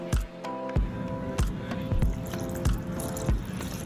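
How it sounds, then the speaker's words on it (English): Half a cup of water pours steadily into a blender for salsa verde with a bubbling, splashing sound, broken by a few soft thuds and knocks. "we'll add a half a cup of water to our blender"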